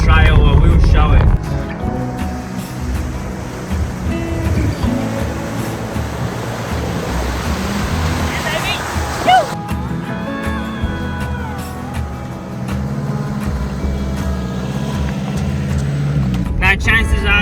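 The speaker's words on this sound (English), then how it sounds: "that is probably the last and first water crossing that we'll ever be doing in the Flinders Ranges" An off-road vehicle drives through a water crossing in the Flinders Ranges: a loud, close low rumble and splash at the start, then steady engine noise and sloshing water under people talking.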